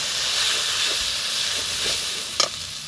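Ginger, garlic and chilli, turmeric and Kashmiri chilli powders frying in a pan hiss and sizzle steadily as a splash of water goes in, with a brief sharper burst of sizzle near the end; no talk.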